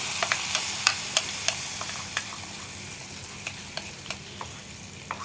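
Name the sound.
hot tempering poured into ash gourd curry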